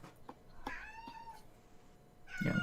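A cat meows several times in short, rising and falling calls spaced across a couple of seconds, fairly close and clear over a quiet room background, with a louder burst of noise at the end.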